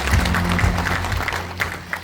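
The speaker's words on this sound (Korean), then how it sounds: "큰 박수로 맞아주시기 바랍니다." An audience at a book launch event in a university hall applauds, a brief, continuous patter of many hands at moderate distance with a faint voice in the background.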